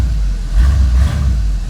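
A Ford F-150 pickup engine rumbles low and close as the truck strains to move, with a brief swell in revving partway through the short burst.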